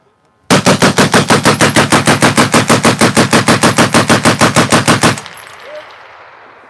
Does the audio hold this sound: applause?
no